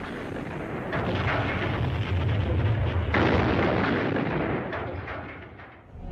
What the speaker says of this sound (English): ordered the cannons of the citadel to be aimed at Al-Azhar Mosque and anything else near it